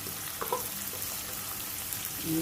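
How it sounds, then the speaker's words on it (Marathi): Curry leaves and onion go into hot oil in a pan for a raw banana bhaji, giving a steady frying sizzle with a few crackles and pops. "आपण हे कढीपत्ता आणि कांदा घालून घेऊया"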